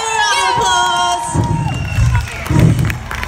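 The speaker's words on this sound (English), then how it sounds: "Come on, give him a round of applause." A crowd at an evening wildlife park show cheering and shouting for a person in a polar bear costume, children's whoops and a whistle-like tone at first, then louder bursts of cheering, with scattered applause.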